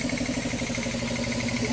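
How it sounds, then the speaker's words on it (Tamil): A remote-switched electric motor hums steadily and close by, a continuous even drone with a faint regular pulsing and no voices. "இப்போ பார்த்துக்கிட்டா மோட்டார் ரன் ஆகிடுச்சு"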